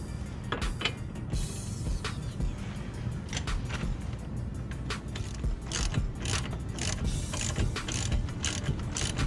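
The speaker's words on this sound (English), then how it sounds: "I'm going to use an 8mm socket and my 19mm wrench to tighten this down." A strut nut on a 2008-2012 Chevy Malibu is tightened with an 8mm socket and a 19mm wrench, giving a steady run of rapid ratcheting clicks under a constant mechanical whir, close by and moderately loud.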